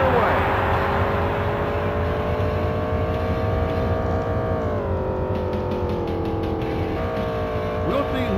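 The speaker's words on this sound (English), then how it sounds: "The green flag is out and we are underway." NASCAR race cars pulling away at the start of a Pocono race in NASCAR 2000 on the Nintendo 64, a steady droning engine whine that shifts pitch as the pack accelerates, continuous and fairly loud, with an announcer's voice over it.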